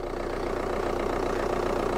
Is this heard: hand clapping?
no